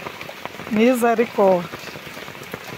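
Heavy rain pours steadily onto surfaces outdoors, a constant broadband wash of drops, while a voice speaks a brief exclamation over it midway.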